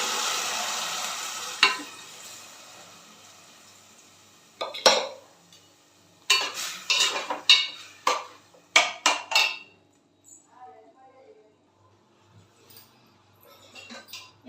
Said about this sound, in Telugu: ఇవి ఉడకబెట్టుకున్న సొరకాయ ముక్కలను కూడా వేసేసుకున్నాం.